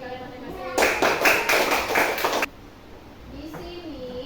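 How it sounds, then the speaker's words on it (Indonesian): Schoolchildren in a classroom lesson clap for themselves, a short burst of quick rhythmic claps lasting under two seconds. Kids' voices can be heard before and after it. "tepuk tangan buat diri kalian masing-masing."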